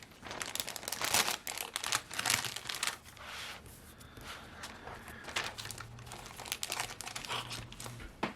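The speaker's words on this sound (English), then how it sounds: "I'm also going to put this back in the plastic because I do not want to taint this paper just yet." Paper slides back into crinkly plastic wrapping, with loud, irregular crinkling and rustling bursts up close and no talking.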